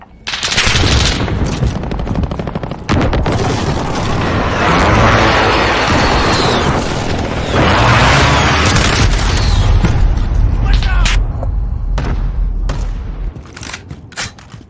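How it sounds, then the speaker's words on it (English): Precision airstrike explosions in a shooter video game, a loud sustained barrage of rapid blasts and rumbling booms that runs for most of the stretch before tapering off, dense and close. "Allied precision airstrike incoming."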